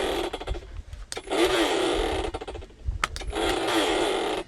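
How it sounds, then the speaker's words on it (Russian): A cordless ONEVAN string trimmer fitted with a cutting disc spins up in loud whirring bursts, revving high, easing off, then revving again, with small knocks and clicks between runs. "сейчас зажму, и мы проверим, как будет косить при помощи диска"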